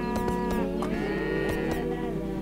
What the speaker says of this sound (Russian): Корова.